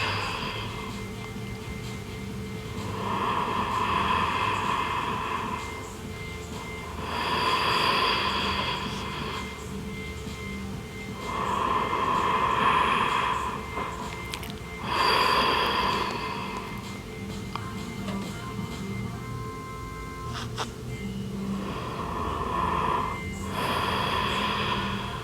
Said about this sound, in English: Slow, steady, smooth inhales, followed by smooth, steady, extended exhales.